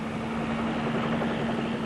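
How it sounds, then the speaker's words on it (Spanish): A helicopter flies over the sea with a steady, loud droning rotor roar and a constant engine hum, unbroken throughout. "Los helicópteros han llegado a jugar un papel fundamental en la guerra moderna"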